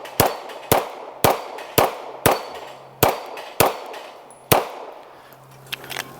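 A Girsan 2311 Match double-stack 9mm pistol fires eight sharp shots at a steady, fairly quick pace, each followed by a ringing clang as the rounds strike steel plates outdoors.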